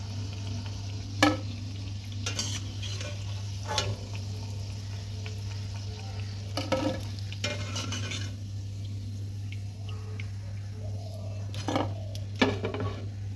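Medu vada frying in hot oil, a low continuous sizzle broken by several sharp metallic scrapes and clinks of a utensil against the pan as the pieces are lifted out and strained.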